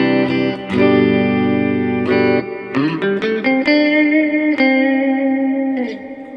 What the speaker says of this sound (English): This is probably the biggest setting that is on the pedal, is this Hall setting at full time